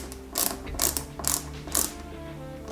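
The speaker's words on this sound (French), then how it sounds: "je mets la 2e roue crantée et j'y mets une vis tête plate UP" Flat-head screw being driven by hand into the toothed wheel of a Ghostbusters Ecto-1 scale model car, giving four or five evenly spaced ratcheting clicks up close, quiet and alone.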